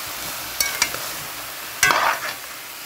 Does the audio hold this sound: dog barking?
no